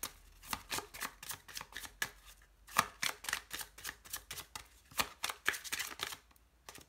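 A tarot deck is shuffled for a love reading, a run of quick papery riffles and soft slaps in uneven bursts, close and fairly quiet with no talking.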